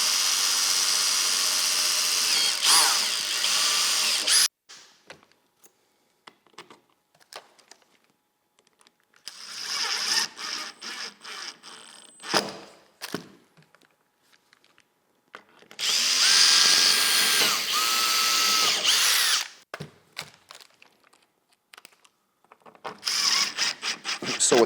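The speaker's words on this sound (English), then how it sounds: "Go ahead and drill our pilot holes and then screw this down solid." A power drill boring pilot holes into a boat deck while mounting a Minn Kota Ultrex trolling motor heading sensor, in several loud whirring bursts of a few seconds each, separated by quiet pauses and light handling clatter.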